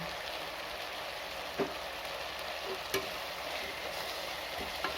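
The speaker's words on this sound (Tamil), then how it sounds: "நல்லா கிளறி விட்டுக்கலாம்" Mixed vegetables for vegetable biryani sizzle steadily in a hot pan with fresh mint, while a spoon stirs them and gives a few sharp scrapes and clicks over the constant frying hiss.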